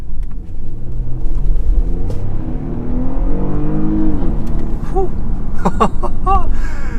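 A Porsche Panamera 4S Sport Turismo in automatic with a PDK transmission accelerates along a straight road, its engine rumble rising in pitch through the pull. Near the end, a voice speaks briefly over the engine.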